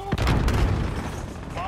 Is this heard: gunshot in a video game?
yes